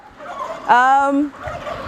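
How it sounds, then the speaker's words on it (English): A single loud gobble from an ornamental turkey on a free-range duck farm rings out, a rapid warbling burst lasting about half a second, close by, with faint farmyard murmur around it. "over there we have the pigeons and the turkeys, ornamental"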